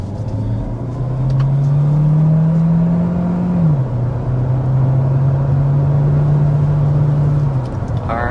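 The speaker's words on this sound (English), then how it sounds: "Alright, so that was taking it up to 60 miles per hour." A 2025 Hyundai Tucson hybrid compact SUV accelerates steadily to 60 mph, its engine droning as a rising tone that dips once at a shift and then holds on, close up and continuous, with no talking.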